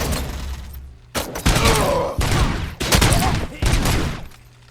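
A sentry gun in RoboCop Rogue City fires in four or five loud, rapid bursts at close range, each a dense clatter of shots with metallic impacts, while a voice speaks between them.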